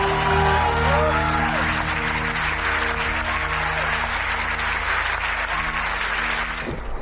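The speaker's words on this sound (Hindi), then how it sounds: "डॉक्टर हेडगेवार के सम्मान में तालियां आखिरी पंक्ति तक बजनी चाहिए।" Steady, dense applause from a large audience at a public speech, loud clapping continuing unbroken for several seconds with a low hum beneath it before it starts to fade at the end.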